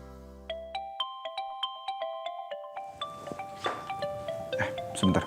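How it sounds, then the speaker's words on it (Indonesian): A phone ringtone plays a repeating chime melody of bright, evenly spaced notes that ring out clearly. Background noise and faint sounds come in partway through while the ringing goes on. "Sebentar, Pak Radit telepon"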